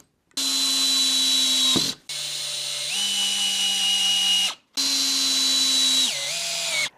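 A power drill drives a screw into a spalted beech wood blank in three sustained whirring bursts separated by brief pauses, its pitch dropping as the screw bites deeper. The drill is loud and close, with no talking.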